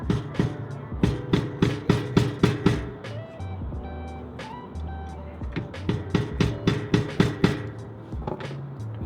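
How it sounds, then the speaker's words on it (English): A hammer smacking a flathead screwdriver to chisel out the lock tab on a CV axle nut, two bursts of rapid, sharp metallic strikes close by with a short pause between them. "you put your flathead screwdriver like that, and then you smack it."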